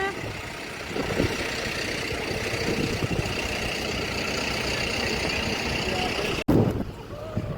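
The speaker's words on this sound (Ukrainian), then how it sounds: "Поїхав трактор" A farm tractor engine runs steadily at a fair, a continuous low rumble with some speech-like sounds over it, then a sharp break and a louder burst as it moves off near the end.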